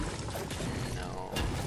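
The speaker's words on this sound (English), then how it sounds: "I'm gonna have to drink these barrels then" A Fortnite player drinks shield barrels, producing a short liquid gulping and pouring sound with mechanical clicks, loud and close, lasting under two seconds.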